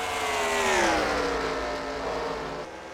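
Stock cars race in NASCAR Racing 2003 at Bristol, a loud steady engine roar with pitch sliding downward as the cars lift off, continuous for three seconds with no speech.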